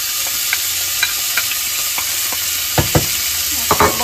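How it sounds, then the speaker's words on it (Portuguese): Onion frying in a pan for a bean-and-rib dish, a steady broadband sizzle with a few sharp stirring scrapes and clicks near the end, close and alone without talk. "vou aqui entrar com cebola"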